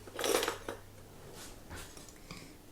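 A small spoon scrapes and clinks against a jar of Biscoff spread, a loud scoop near the start followed by a few fainter taps and scrapes, no voices.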